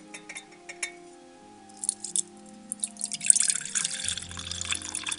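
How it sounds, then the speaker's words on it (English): Iced orange tea poured through a strainer: a close, steady trickle of liquid with scattered drips and faint clinks, building in the second half, no talking. "So as you can see, the strainer is catching all of those little bits of orange that we had in there."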